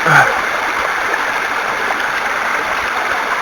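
Clear Gold Model 2125 HDP hand dredge being primed underwater, giving a steady rushing, bubbling wash of water with a brief splash at the start, close and continuous.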